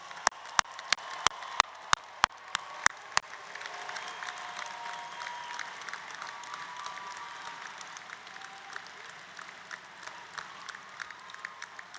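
Graduates at a Drexel University College of Computing and Informatics commencement ceremony receive applause from a large crowd: a run of sharp, loud claps up front, then sustained, steady clapping from many hands for the remaining seconds.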